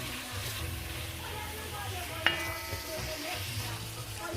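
Steady close sizzling and frying from a pot of peanut sauce with tomato being stirred, a soft spoon knock partway through, continuous and fairly loud throughout.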